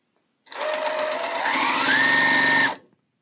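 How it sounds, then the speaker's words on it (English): A straight stitch sewing machine pieces a quilt block in one steady burst of about two seconds, its fast, even whir rising slightly in pitch before stopping abruptly, with no talking. "For me, there's nothing like piecing on a straight stitch machine."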